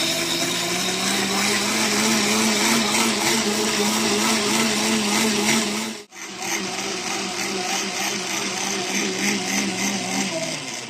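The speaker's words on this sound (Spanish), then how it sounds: "Tapamos la licuadora y licuamos por unos 3 minutos." A blender whirs steadily as it purees a turkey marinade of orange juice and blonde beer, a loud continuous motor drone with a brief dip near the middle before it resumes.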